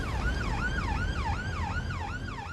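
An ambulance siren wails in a steady repeating up-and-down sweep, loud and fairly close, cycling about every half second over low road rumble with no voices.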